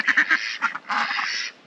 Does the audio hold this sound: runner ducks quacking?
yes